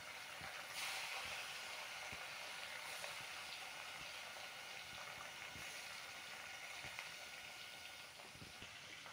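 Rohu fish rubbed with salt and turmeric frying in hot oil, a steady sizzling hiss that stays at an even, fairly quiet level throughout with no talking.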